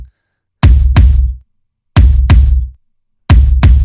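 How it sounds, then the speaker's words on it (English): A heavy, booming kick drum from a rock song's isolated drum track plays in loud double hits, two quick thumps repeating about every 1.3 seconds with nothing else over it. "the first thing that we have here is a kick drum"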